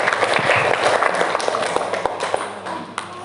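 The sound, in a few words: audience applause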